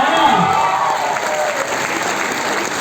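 An event audience claps in loud, sustained applause, with a dense, even patter of many hands and a faint crowd murmur underneath.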